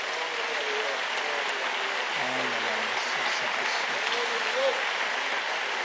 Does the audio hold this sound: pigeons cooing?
no